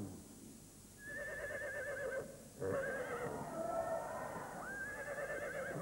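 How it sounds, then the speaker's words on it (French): A horse whinnies in several shaky, quavering calls, loud and near, with short breaks between them. "C'est un cheval."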